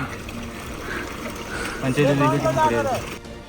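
Cold spring water trickling and pouring near a village in Uttarakhand's Darma Valley, a steady close splashing stream that grows louder midway, with people talking over it.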